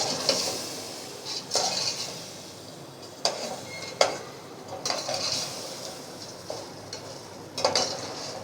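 Masala for potato dum biryani being stir-fried in a pan: repeated spoon scrapes and clanks against the pot every second or so over a low background sizzle, close up with no talking.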